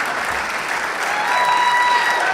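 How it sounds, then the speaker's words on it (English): A crowd claps loudly and steadily through a motivational talk, a dense, even wash of applause that swells slightly near the end, with a few whistles cutting through. "You can clap for that."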